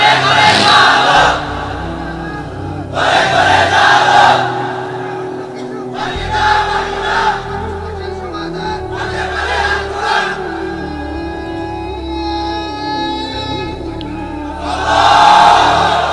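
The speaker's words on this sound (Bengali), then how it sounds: "আছে এরকম স্লোগান দেখি তো, দেন তো একজন।" A crowd at a Bangla religious waz gathering chants a slogan in loud, repeated call-and-response bursts, with a lead voice between the crowd's shouted replies.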